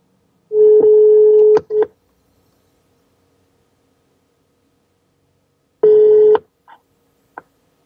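Two short bursts of an electronic phone ring, several seconds apart, each trailing into faint clicks, with quiet between them.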